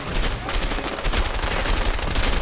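Dense, continuous gunfire in the video game A Way Out, loud overlapping shots and blasts filling the whole stretch with no clear gaps.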